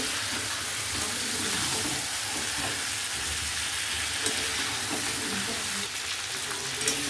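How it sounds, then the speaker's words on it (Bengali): Chicken with fried potatoes is sautéed in a pan with a splash of hot water, giving a steady, close sizzling hiss with occasional stirring scrapes and clinks. "ভাজা আলু দিয়ে আবার এক চামচ জল দিয়ে গরম জল দিয়ে ভালো করে এটা কষে নিচ্ছি"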